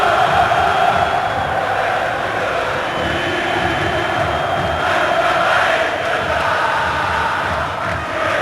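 A dense, sustained roar rises from a packed football stadium crowd at the Flamengo versus Botafogo 2008 Carioca championship final, loud and continuous, with no distinct voices.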